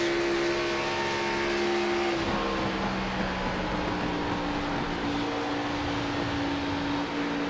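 Onboard a race car at Charlotte speedway, the engine drones loudly and steadily, its pitch dipping and rising slightly as the car works through the corners, with no talk.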